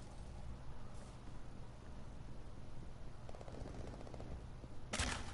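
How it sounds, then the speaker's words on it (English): Rapid automatic gunfire rattles in a zombie video game, a steady dense burst over continuous game noise, with a brighter, louder crack near the end. "Might as well shoot him with this one."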